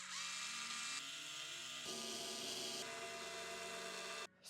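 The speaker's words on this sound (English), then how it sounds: "Now we have to screw it on," Steady high-pitched whir of a small electric screwdriver driving screws into an RC car chassis, running continuously for several seconds with slight pitch shifts before cutting off at the end.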